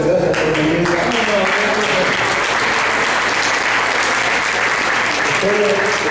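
An audience at a religious gathering claps continuously and loudly throughout, a dense wash of applause with a voice speaking faintly over it.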